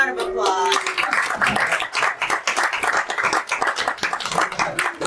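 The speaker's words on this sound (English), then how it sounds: "Please join me in a big round of applause." Enthusiastic applause from an audience, dense clapping that fills the room, with a brief voice at the start.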